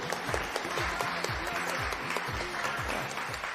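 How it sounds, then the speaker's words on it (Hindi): A crowd claps loudly and steadily at a talent show, the applause continuous across the whole stretch with rhythmic thumping underneath. "एक बार जोरदार तालियां हो जाए इनके लिए"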